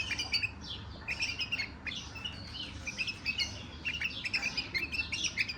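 Many young Iraqi bulbul chicks chirping and twittering together in a busy, continuous chorus, fairly close, with a soft background hum.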